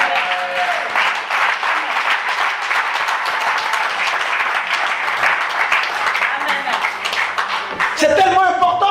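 A church congregation at a sermon applauds and cheers, a dense, steady wash of clapping and voices filling the hall for several seconds, with a speaking voice rising at the end.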